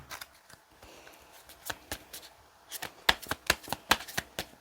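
Tarot cards are shuffled by hand for a reading, a quick run of crisp riffling flicks and soft slaps that grows denser and louder toward the end, close and without talk.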